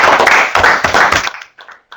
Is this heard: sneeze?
no